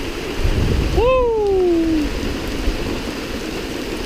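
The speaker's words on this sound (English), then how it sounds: "Definitely have a pretty strong thunderstorm coming through." Steady broadband rain hiss from a strong thunderstorm at an overnight camp on the Pinhoti Trail, with a voice whooping loudly partway through; no distinct thunder stands out.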